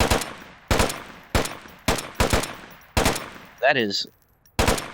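Automatic fire from the Volk rifle in a shooting video game: sharp, loud bursts repeating at a steady pace, each with a short decaying tail. A voice speaks briefly between them.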